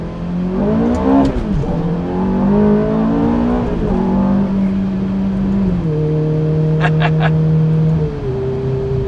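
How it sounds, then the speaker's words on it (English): A Ferrari F430 accelerates hard with its engine rising in pitch through the gears, loud and close, the tone sweeping up and then holding steady; a brief high squeal near the end fits spinning tires. "Spun the tires a little bit there."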